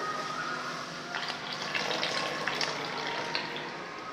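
Milk poured into a cooking pan while making kesari sweet in a home kitchen, a steady faint stream of liquid against a constant background hiss, with a few soft splashing accents.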